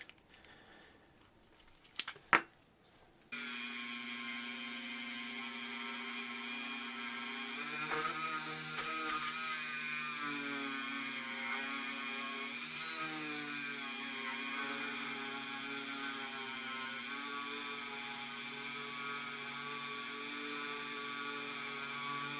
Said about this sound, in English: This is the little side cutting bit I always refer to. It's kind of like a little mill.